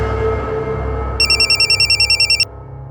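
An electronic telephone ring trills in a rapid burst of pulses for about a second, loud and close over a low background hum.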